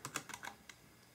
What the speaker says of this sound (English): Let's just try typing something like